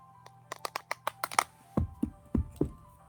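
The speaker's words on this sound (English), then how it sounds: "I dropped my dice." Small dice dropped onto a hard surface make a quick run of light, sharp clicks that speed up and tighten, then a few heavier, duller knocks as they settle, close by and with no talking.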